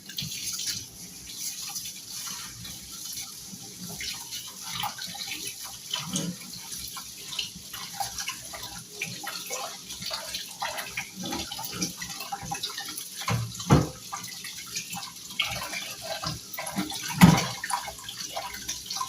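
Water runs from a tap fed by a storage tank, a steady splashing flow with scattered drips and clinks, moderately close and fairly quiet, with no talk over it.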